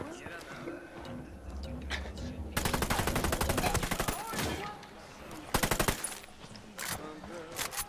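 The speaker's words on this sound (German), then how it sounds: "Oh, das war ein Scharfschütze, Alter." Gunfire in the tactical shooter Ghost Recon Wildlands, with a dense automatic burst of rapid shots in the middle and a second short burst later, plus scattered single cracks, against game ambience.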